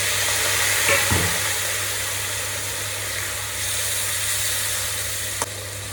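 Freshly caught pond prawns fry in a pan on the stove, giving a steady close sizzle. A couple of stirring scrapes and clacks come early, with a single sharp tap near the end, and no voices.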